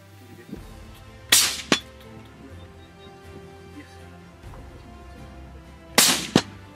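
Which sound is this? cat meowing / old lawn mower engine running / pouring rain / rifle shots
rifle shots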